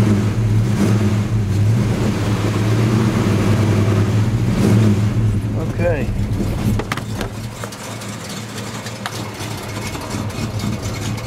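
A 1967 Plymouth Barracuda with a 360 V8 warming up, its lumpy idle rumbling loud and close before sharper revs rise and fall; a voice speaks briefly over the engine.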